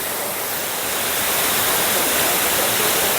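Lower Falls at Graveyard Fields near Asheville roars in a dense, steady wash of falling water, loud and close, with no voices over it.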